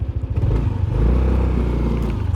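Yamaha Nmax 125 injected scooter engine fires up from the start button, a close, loud chugging crank that settles into a steady low idle rumble.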